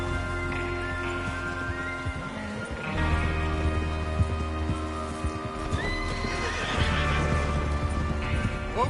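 Horses in the Red Dead Redemption 2 video game, heard as steady hoofbeats with whinnies and snorts from several animals close by, running over a low musical background.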